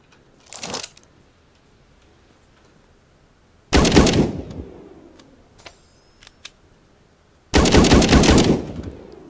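Three loud, separate sniper rifle shots in the sci-fi game Eden Star, each a sharp crack that trails off in a long rumbling echo, spaced a few seconds apart, with faint clicks heard between them.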